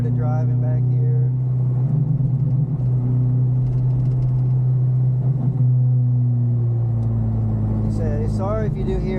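A car fitted with Maxpeedingrod coilovers driven spiritedly, a steady engine rumble from inside the cabin with pitch rising and falling as it accelerates, and a voice talking over it near the end.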